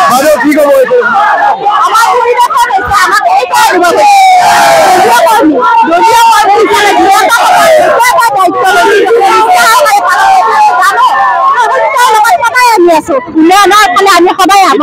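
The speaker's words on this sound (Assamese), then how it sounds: "বাহিৰত বিজেপি কৰ্মীসকলে যথেষ্ট আনন্দ উল্লাস কৰা পৰিলক্ষিত হৈছে" BJP workers celebrate outside after Dilip Saikia's win in Darrang-Udalguri, a dense, loud crowd roar of cheering, shouting and overlapping voices that runs without a break from start to finish.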